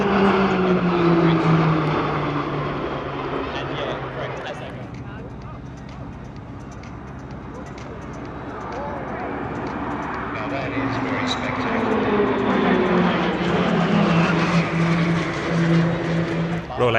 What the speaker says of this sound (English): Roulettes 5 and 6 make up the synchro pair, performing a lovely opposition pass there.